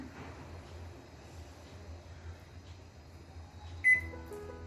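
A microwave oven cooking a vegetable curry hums faintly and steadily, then gives a sharp electronic beep near the end.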